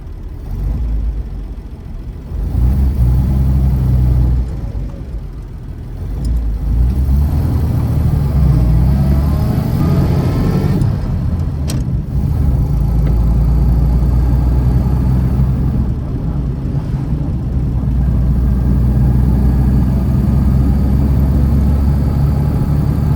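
A 1931 Chevrolet car named Dotty drives along a rough road, its low engine rumbling steadily and fairly loudly throughout, with some wind and road noise and no talking.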